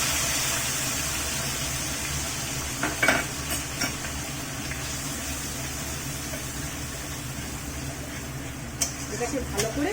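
A yogurt and spice mixture is sautéed in a pan over lowered gas heat, a soft steady sizzle beneath occasional scraping and stirring clinks of a utensil against the pan.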